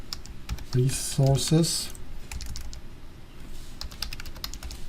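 Computer keyboard keys click in quick bursts and scattered single taps under a voice, close and fairly quiet, while he works in Visual Studio with C# and SQL Server.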